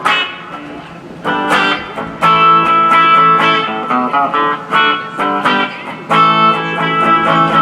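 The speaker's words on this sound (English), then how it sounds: "Here's twin reverb with treble and bass." Electric guitar chords ring out through a Fender Mustang I amp's clean Twin Reverb model with bright treble and full bass, strummed and sustained with a little effects shimmer.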